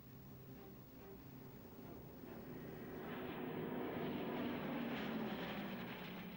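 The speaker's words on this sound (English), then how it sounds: "Blenheim has now become one of the most popular aircraft you can get at your flying display" A Bristol Blenheim bomber flies past at a flying display, its propeller engines giving a steady droning roar that swells gradually and stays loud toward the end, with no voices.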